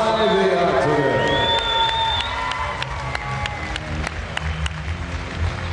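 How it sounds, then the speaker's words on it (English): A large crowd at a mixed martial arts event applauds and cheers loudly, with whoops and shouts over steady clapping that gradually thins out. "Can we have a round of applause, please, for the two warriors inside the octagon?"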